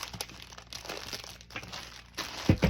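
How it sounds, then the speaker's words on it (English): A plastic bag being twisted and stuffed into the bottom of a flat Roman shade, close crinkling and crumpling rustles in irregular bursts, ending with a louder crunch, no talking. "I twist the end of the bag, shove it in the down below, and secure it with tape"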